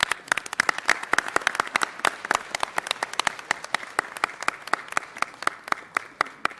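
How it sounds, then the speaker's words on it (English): An audience at a Los Angeles City Council meeting claps for the Miss Los Angeles Chinatown pageant court, with sharp, scattered claps forming a steady round of applause. "Let's give them an applause."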